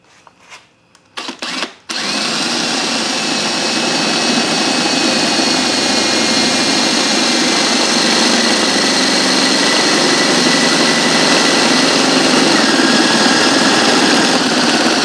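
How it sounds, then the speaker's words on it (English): A loud power drill whirs steadily for a long stretch after a few brief clicks and knocks, its high-pitched motor noise constant and close. "Drill this hole out."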